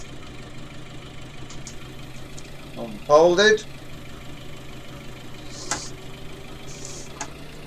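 A tractor engine idles in a farm valley during weed-killer spraying, a low, even rumble running through the whole stretch, with a brief burst of speech near the middle.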